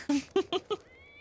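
Cat meowing in the 2006 film The Prestige, four short, close meows in quick succession, followed by a faint high tone.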